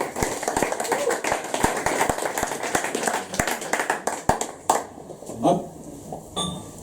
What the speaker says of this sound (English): more applause for Rodney.